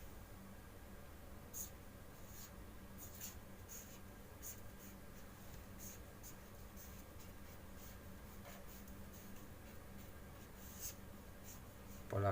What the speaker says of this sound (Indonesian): Saya tulis bagian depan ya.